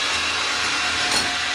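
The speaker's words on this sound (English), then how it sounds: "I'm just cleaning the holes out I've just made" A steady, hissing whir of a tool blowing or sucking dust out of freshly drilled holes, loud and close, with no pause.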